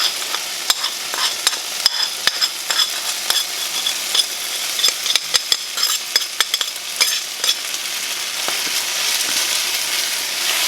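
Tomatoes with thyme, oregano, red pepper flakes, salt, black pepper and garlic powder sizzle in a hot pan while a utensil stirs them, close-up scraping and clicking over a constant frying hiss.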